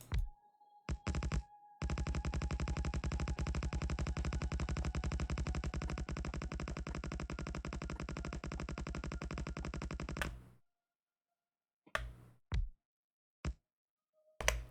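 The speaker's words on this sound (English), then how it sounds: "They're pretty powerful, the sniper turrets." Sniper turrets firing in Factorio with the Seablock mod, a long, evenly spaced rapid train of shots lasting about eight seconds, fairly faint, followed by silence and a few isolated clicks.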